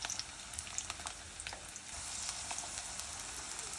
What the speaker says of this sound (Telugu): జస్ట్ మీడియం ఫ్లేమ్లో పెట్టుకొని కొన్నిగా ఫ్రై చేసుకుంటే సరిపోతుంది